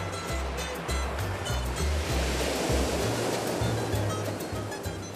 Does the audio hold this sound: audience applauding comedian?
no